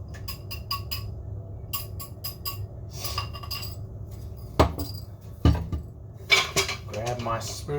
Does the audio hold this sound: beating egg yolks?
yes